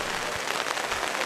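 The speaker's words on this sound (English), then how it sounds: "rain really coming down now" Heavy rain falls on an outdoor rugby pitch, a dense, even hiss with scattered patter from drops hitting surfaces, steady and moderately loud throughout a brief moment.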